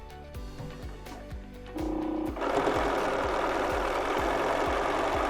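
Close and loud, a sewing machine hums steadily while stitching binding along a fabric edge, its needle ticking in a regular rhythm and the motor rising to a faster, fuller drone partway through.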